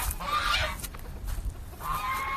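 Geese honking outdoors on a farm, with two bursts of nasal honks separated by a short pause and steady low wind or handling noise underneath.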